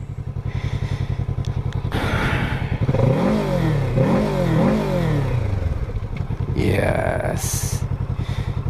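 A Kawasaki Z650 motorcycle engine idles with a steady pulse, then revs up and down several times in quick blips, with a voice speaking over the engine at the start.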